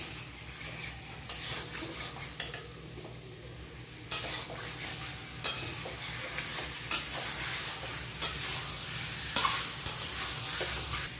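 Chicken pieces and fried potatoes are stirred with spices in a pot for a chicken and young jackfruit curry, producing a soft sizzle broken by repeated sharp scrapes and clanks of a spatula against the metal pan.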